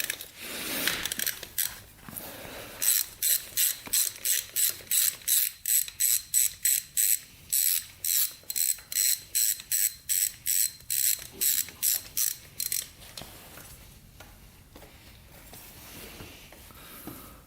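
A ratchet loosens the oil drain bolt on a turbocharged Honda 400ex quad, giving about twenty sharp, evenly spaced clicking strokes close by, then slowing and fading into quieter handling sounds.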